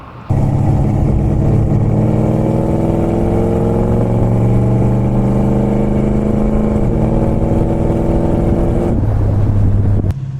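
A 1969 Dodge Charger cruising on a road, heard from inside as a loud, steady engine drone that rises smoothly in pitch through the gears and drops back near the end.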